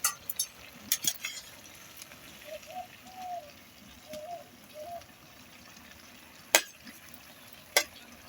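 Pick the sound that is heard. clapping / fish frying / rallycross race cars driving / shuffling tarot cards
fish frying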